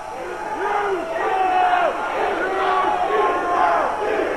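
Wrestling crowd at a hardcore match shouting and jeering together, with rising and falling chant-like yells, loud and sustained throughout with no clear talk over it.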